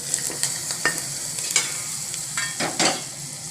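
Peanut chutney is poured into a pan of tempering, and a steady crackle and sizzle comes from close by, with several sharper pops and bursts through the seconds.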